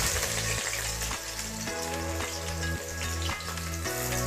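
Chopped onions sizzle in hot oil in a pan for an Assamese meat dish, a continuous crackling hiss at moderate level, with no talking.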